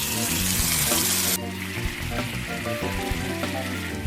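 Marinated boar meat hitting a hot pan oiled with salad oil, a loud hissing sizzle that drops a little in level after a second, then keeps up with steady crackles and pops.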